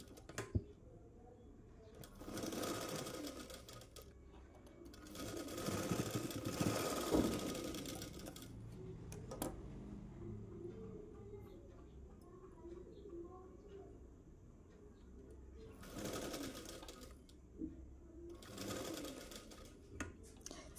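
Stitching the shoulder joint of a dress, a sewing machine whirs in several separate runs of a few seconds each, with quieter handling sounds and a steady low hum between them.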